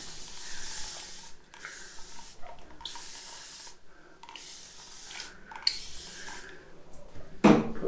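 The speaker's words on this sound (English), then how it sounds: "spray my head." Several short hissing bursts from a spray bottle onto a freshly shaved head, close by, separated by brief pauses, followed by a faint clatter near the end.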